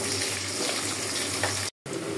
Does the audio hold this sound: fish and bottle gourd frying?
yes